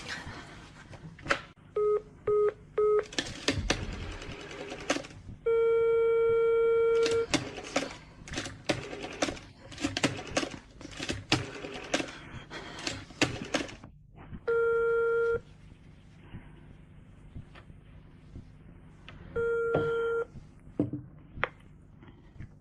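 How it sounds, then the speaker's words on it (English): A telephone is dialed with a quick series of short tones, then a steady repeating busy signal sounds in a few long beeps, faint and indoors, in a radio crime drama. "Dial 0, and you'll get the operator."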